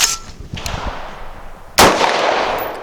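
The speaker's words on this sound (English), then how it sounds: "Locks open. Drops free." DSI Variant 1 pistol handling, with a sharp metallic clack as the slide locks open followed by a second clattering impact as the magazine drops free, both close and ringing out briefly.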